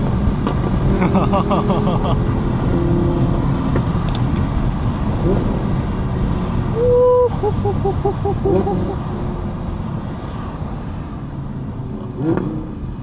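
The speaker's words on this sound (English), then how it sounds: "Another Lamborghini Huracan." Lamborghini Huracan engine rumble with revving and passing traffic, moderately loud, with a brief tonal whine in the middle and people talking over it.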